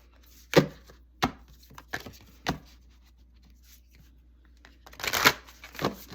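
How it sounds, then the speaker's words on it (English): Oracle deck cards are flipped and shuffled on a table, producing a series of crisp, close slaps and flicks at irregular intervals, ending in a louder riffling shuffle, with no talking. "let's pull a card. Hold on, I gotta flip these around."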